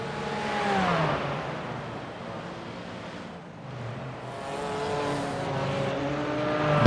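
Porsche GT4 race cars on a simulated Detroit Belle Isle circuit, a continuous engine drone rising and falling in pitch as the cars accelerate and shift gears, with no voices over it.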